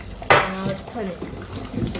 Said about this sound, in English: Stir. Stir.